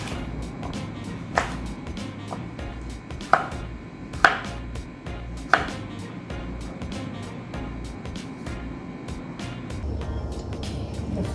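A knife cuts steamed yam cake into cubes on a board, with a handful of distinct firm chops spaced irregularly over a low steady background hum, close by and with no talking.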